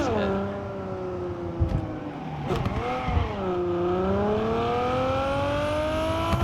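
A car driving in a Cyberpunk-style game, its engine holding a loud, steady revving drone that rises and falls through gear changes, with a few thumps along the way and someone talking over it.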